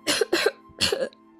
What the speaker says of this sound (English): Nightpaw's only response was a fit of coughing.